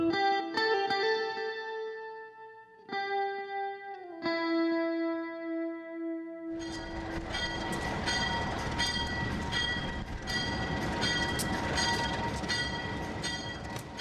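A White Pass & Yukon Route Railroad train rumbles along in a broad, continuous roar of wheels and cars, entering after a stretch of sustained tonal notes and persisting loud to the end.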